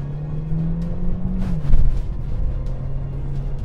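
A Mercedes-Benz CLA turbo car accelerates with a loud, steady engine drone that shifts pitch briefly partway through, then holds a sustained note as it pulls ahead.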